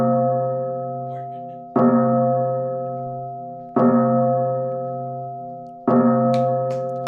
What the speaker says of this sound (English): Any super chat that comes in, we got to ring the bell.